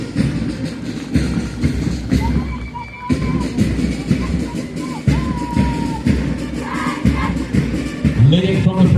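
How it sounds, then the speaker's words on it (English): Loud, sustained applause from a large outdoor crowd at the Arunachal Pradesh Police Raising Day parade, dense and continuous for the whole stretch, with low rumbling thumps beneath it. "A huge round of applause."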